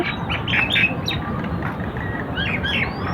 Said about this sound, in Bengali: দেখেন পাখিগুলা কিচিমিচি করতেছে, বসে আছে পাখি।